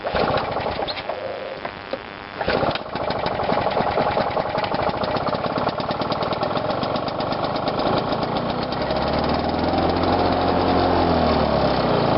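Small petrol engine of a mower or whipper snipper running steadily close by, a rough buzzing drone with a brief sputter early on before settling into a constant, slightly uneven idle.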